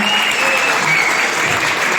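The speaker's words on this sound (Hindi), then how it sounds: "प्लीज और एक बार जोरदार तालियां।" Loud, steady applause fills a hotel hall in Mumbai as a standing audience claps hard after a sand art performance, a dense continuous roar of hands with no break.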